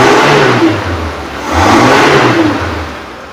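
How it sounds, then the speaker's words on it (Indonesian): A 2005 Suzuki Carry PV pickup with a 1.0 engine revs up twice, the loud steady drone swelling, easing off and rising again close by, with no talking over it. "Kita naikkan RPM pun suaranya masih oke, masih bagus, aman, tidak ada ciri-ciri mesin bermasalah."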